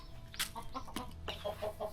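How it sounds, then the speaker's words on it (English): Noisy hens cluck inside a farm chicken coop, a close run of short clucks and squawks in uneven bursts with a brief louder call, no talking. "These ones are super noisy because we have the naughty chickens in here, so it's gonna be so loud."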